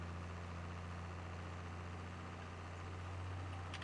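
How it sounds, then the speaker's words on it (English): A tractor engine in Farming Simulator 22 drones at a steady, constant pitch under heavy load as it powers a machine, running continuously and fairly quietly with no talk. "we're running the engine harder to power this machine"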